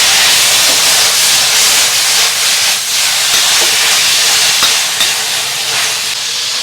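Tofu skin (yuba) hisses and sizzles steadily in a hot wok with garlic, ginger, scallion, dried chilies and oyster sauce, a loud, continuous steamy frying roar with faint clicks of stirring.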